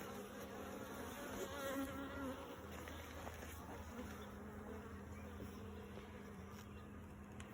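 Carniolan honey bees buzz around a hive of stacked deep boxes, a dense, continuous hum of many insects with individual bees droning close by at times, fairly faint and steady throughout.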